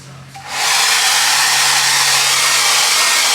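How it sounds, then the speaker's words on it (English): A hair dryer switches on and blows with a loud, steady whoosh that stays constant throughout. "The hair dryer gives you plenty of heat to do this"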